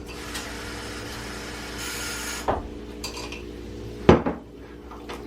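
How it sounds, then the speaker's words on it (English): A spoon scrapes and stirs through thick pork rib gravy in a metal pan, with soft rubbing strokes and two sharp clanks of utensil against the pan, close and otherwise quiet. "So I'm gonna stir this up."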